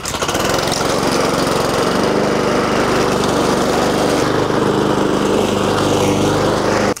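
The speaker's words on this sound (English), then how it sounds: "So let's start the mower" A lawn mower running loud and close as it chops through fallen leaves, a steady, harsh engine roar that continues unbroken for the whole stretch, with no talk.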